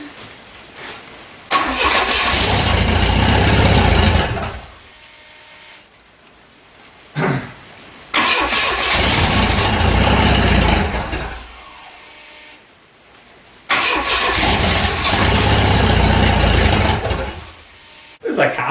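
A twin turbo redblock engine starting on first start attempts: three separate bursts of cranking catching into loud, rough running, each lasting a few seconds before cutting out, with quiet gaps between and occasional voices nearby.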